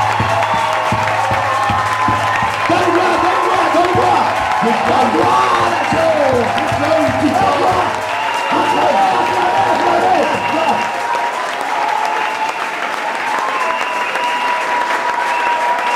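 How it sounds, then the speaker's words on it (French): A church congregation claps loudly and steadily together as a sign of giving glory to God, a dense sustained wall of applause with cheering voices mixed in throughout. "I want you to clap in a special way as a sign."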